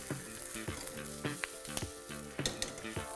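Capsicum frying in a hot pan for chilli gobi sizzles steadily close up, while a spatula scrapes and stirs with scattered clinks and taps throughout.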